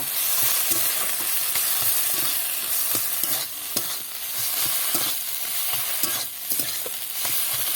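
Fried onion and garlic are stirred into a pointed gourd mash in a hot pan, with a continuous soft sizzle and irregular scraping and clinking stirring strokes close by.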